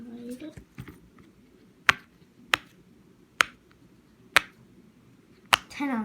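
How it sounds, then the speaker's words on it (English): Blue Among Us-shaped poppet fidget toy being pressed, giving a series of sharp, loud single pops spaced about a second apart, with a voice talking briefly at the start and end. "So first one is this Among Us blue poppet."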